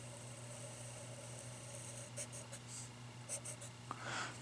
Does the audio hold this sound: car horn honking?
no